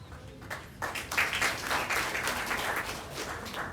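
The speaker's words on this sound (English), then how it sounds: "Please, a round of applause." Applause from an audience at a spelling bee competition's opening ceremony in Nigeria, a steady wash of clapping that starts after a brief pause and holds at moderate level throughout.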